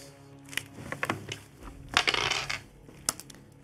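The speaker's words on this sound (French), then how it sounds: "Vas-y, lance les dés" A quick series of small clattering knocks and rattles as dice tumble across a table during a tabletop role-playing game, with a few sharper clicks near the end.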